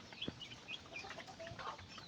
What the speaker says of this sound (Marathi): हे बघा चांगल्या क्वालिटीचे कोंबडे आहेत आपल्याकडे